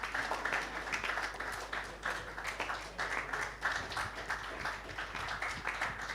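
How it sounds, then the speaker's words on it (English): An audience at the Falling Walls Lab Ghana pitch event breaks into sustained applause, a dense, even wash of many hands clapping at moderate volume that continues steadily without any speech over it. "please put your hands together"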